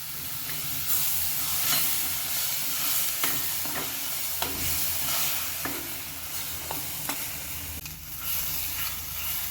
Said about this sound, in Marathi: आता आपण यामध्ये टोमॅटोची प्युरी घालून घेणार आहोत. त्याला 3 ते 4 मिनिट छान परतून घेणार आहोत.